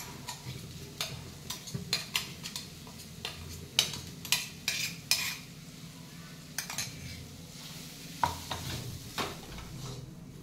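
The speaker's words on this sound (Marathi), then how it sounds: "तेलातच वाटाणा आणि हिरवी मिरची भाजून घ्यायचे" Green peas and green chilies are stirred and fried in oil for crispy spicy samosas, a soft steady sizzle beneath repeated sharp clinks and scrapes of a spoon against the pan, with no voices.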